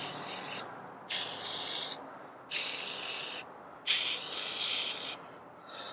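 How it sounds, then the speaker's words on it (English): WD-40 sprays in three long hissing bursts, each about a second or more, with short pauses between, onto corroded lug nuts under the hubcaps of a 1958 Chevy Apache, close and loud. "Spraying some WD-40 on there."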